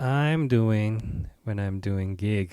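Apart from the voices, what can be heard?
No distinct noise like a dog, phone or traffic.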